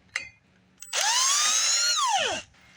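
A power tool spins out a Torx T30 screw holding a brake rotor on a Chevy Traverse: a short whirring burst of about one and a half seconds that winds up, holds, then slows down, preceded by a couple of metallic clicks.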